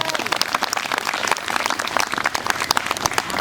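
A church congregation claps for Jesus Christ during a healing testimony service, producing dense, continuous, fairly close applause for a few seconds with voices mixed in.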